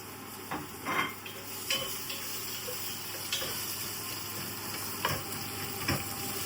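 Whole spices and chopped onion sauté in a pan for a biryani, a continuous sizzle broken by several scraping stirs and metallic knocks, close and alone with no talk.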